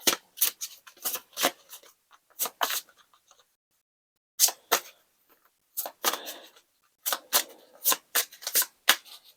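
Tarot cards being shuffled in quick riffling bursts, close and crisp, with brief pauses between groups of shuffles and no talking.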